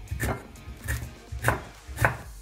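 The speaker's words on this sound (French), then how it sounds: "je fends au milieu Et je vais là découper aussi finement" A knife chops finely through vegetables on a cutting board for a pumpkin soup, four distinct, evenly spaced strikes, close and crisp, with no talking.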